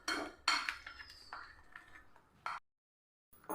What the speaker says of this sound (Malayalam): ഇതേപോലെ ഒരു വിസ്ക് വെച്ച് നമുക്കൊന്ന് മിക്സ് ചെയ്തെടുക്കാം.